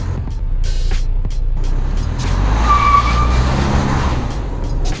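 A Toyota Land Cruiser climbs a rocky off-road trail at Hell's Revenge, its engine a loud, steady low rumble close by, with faint rattles and thumps from the rocks.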